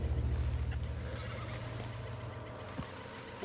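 A horse whinnies in the video game Red Dead Redemption 2, a strong, close neigh at the start that fades into quiet ambience, with a brief knock later on.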